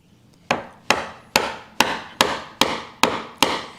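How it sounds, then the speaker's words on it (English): A hand chisel chops a mortise into wood for a mortise and tenon joint, struck nine times in an even rhythm; each crisp, close knock is followed by a short woody ring. "set my chisel right on that line."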